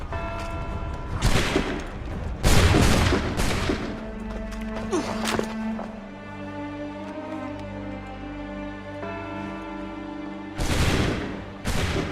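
Loud bursts of musket volley fire in the Assassin's Creed 3 video game, several broadband blasts spaced apart over a bed of orchestral game music, with a final burst near the end.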